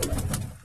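A brief, low coo from a pigeon, close by and fairly clear, lasting under a second.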